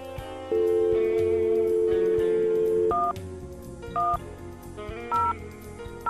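Telephone keypad tones dial a Hunt Pilot number on a Cisco Unified Communications Manager call queuing system, a steady line tone giving way to several short paired dialing beeps.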